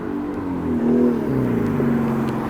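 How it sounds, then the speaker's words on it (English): Loud, steady road traffic in Belfast, Northern Ireland, with a noisy car engine droning and shifting pitch close by, a continuous rumbling whir throughout. "Very noisy road. Very noisy car."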